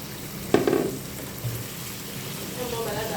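Liver drops into a hot pan with onions and sizzles, a sharp burst of frying followed by a steady crackle, with a few stirring sounds and quiet talk.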